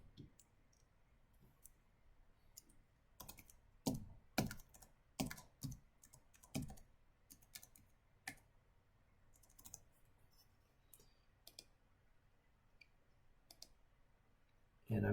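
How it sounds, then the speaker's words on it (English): A password being typed on a computer keyboard: a brisk cluster of crisp keystrokes and clicks fills the middle seconds, with a few scattered taps before and after, fairly faint against a quiet room hum. "it's going to have me authenticate once again, and so I type in my password"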